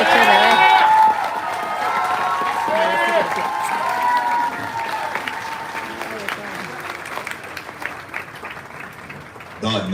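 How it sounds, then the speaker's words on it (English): Audience applause and cheering at a Marine Corps recruit graduation ceremony, loud at first and then settling into steady, sustained clapping from a large crowd, with voices and shouts mixed in. "please join me in a round of applause for the company staff of Alpha"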